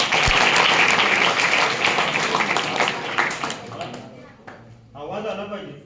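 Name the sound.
group clapping hands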